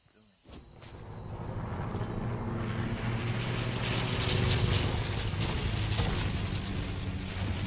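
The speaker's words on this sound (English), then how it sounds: "Do you want to destroy the plane?" An airplane flies overhead in the Fortnite video game. Its engine roar rises quickly after a soft start, then holds as a loud, steady drone for several seconds.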